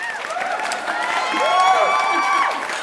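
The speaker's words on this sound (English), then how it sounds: "Audience applause." A crowd applauds and cheers, with whoops and whistles rising over steady clapping that swells midway and then eases off.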